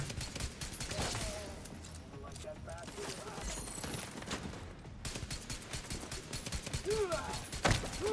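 Video game gunfire cracks in sharp, irregular bursts over a cluttered soundscape, while a voice talks over it.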